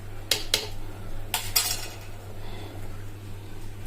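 A metal lid is set onto a cooking pot of homemade Kerala curry, with a few close clinks and clatters over a steady low hum.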